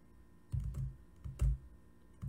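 Typing on a computer keyboard while writing HTML and CSS code, a few soft, close keystroke clusters with short pauses between them, with no talking.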